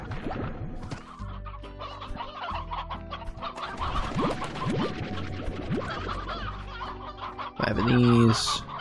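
Chickens cluck in the video game Slime Rancher, with repeated short clucks and scratchy fowl noises over steady background game music, rising to a louder burst near the end.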